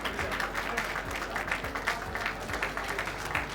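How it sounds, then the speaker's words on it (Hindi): Applause from an audience at a children's award ceremony, a steady dense wash of clapping held at moderate distance for several seconds, with no talk over it. "जोरदार तालियां इसके लिए"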